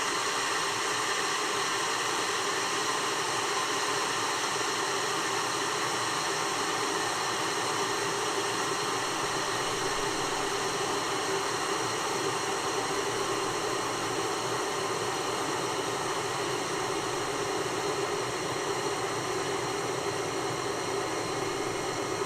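A Netta travel kettle heating water toward a boil gives a steady, loud broadband hiss and rumble that holds evenly throughout, with no talking.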